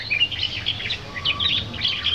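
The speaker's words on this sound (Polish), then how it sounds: "nawet śpiew ptaszka" A small bird sings bright, high chirping phrases in short bursts, fairly close, over a quiet background.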